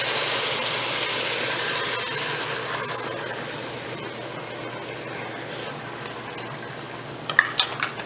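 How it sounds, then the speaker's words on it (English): A steady hissing sizzle fills the clip, fading slightly over time, with a few sharp clicks and pops near the end. "you see it'll sizzle up a lot"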